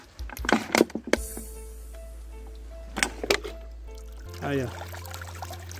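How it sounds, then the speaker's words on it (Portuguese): Water is poured into a plastic PET bottle in a brief trickle, with a steady low hum underneath and someone speaking before and after. "vou encher de água aqui para vocês verem"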